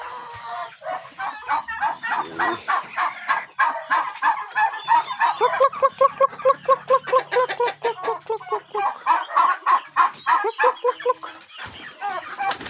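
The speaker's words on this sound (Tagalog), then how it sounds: "Yes, ito yung ating mga manok." Chickens cluck loudly and close by in a dense, rapid series of clucks and squawks, with a few calls overlapping throughout.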